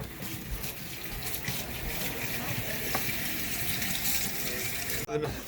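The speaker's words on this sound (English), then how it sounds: "So then you just scoop them out with a nice strainer" Boiled homemade ravioli being scooped out of a pot of water with a strainer, giving a steady splashing, running-water wash that continues throughout with a brief break near the end.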